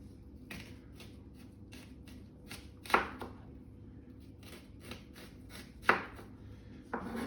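A knife slices through an onion on a cutting board in a series of quick, soft crunching cuts, with a couple of sharper knocks, faint and close against a quiet background.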